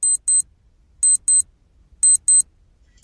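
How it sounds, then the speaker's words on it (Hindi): An alarm clock hidden beneath a sleeping bag during a hide-and-seek challenge beeps in crisp paired bursts, three double beeps evenly spaced, loud and close with nothing else around. "स्लीपिंग बैग के नीचे एक अलार्म क्लॉक भी रखी हुई थी, और जिसका अलार्म बजने वाला है ठीक 4 मिनट में"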